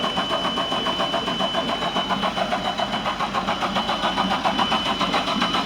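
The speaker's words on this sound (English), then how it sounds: "Pump it while you're trying to start it." A 2018 Chevrolet Tahoe engine after winter storage, fogged years earlier, turning over and running with a steady, rough, pulsing drone, loud and close with no voices.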